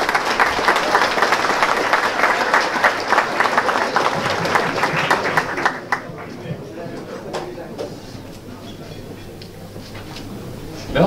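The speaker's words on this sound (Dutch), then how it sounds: "Ik vind het wel gepast deze vijfde keer daar een applaus." Guests at a New Year reception in a club hall give a loud, close round of applause that thins out and fades after about six seconds, leaving a few scattered claps and low room murmur.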